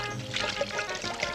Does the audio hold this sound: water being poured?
yes